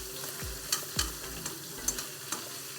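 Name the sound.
fish frying in pan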